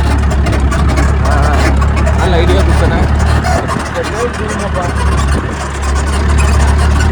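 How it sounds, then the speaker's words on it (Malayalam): Vehicle engines rumble and idle close by on a busy road near Kumily, a dense, loud mechanical drone with talk over it. "വണ്ടികളുടെ ബഹളമാണ് ഇവിടെയൊക്കെ."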